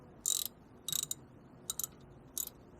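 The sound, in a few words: tightening caliper bolts on a 2010 Toyota Corolla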